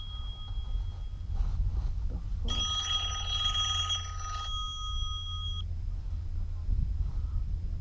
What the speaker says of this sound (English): my mum's just rung me